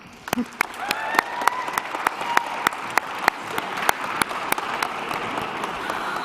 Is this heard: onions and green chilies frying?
no